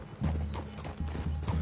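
Horses' hooves clip-clop in an uneven, repeated rhythm in a Western video game, soft and fairly close, with a low rumble underneath.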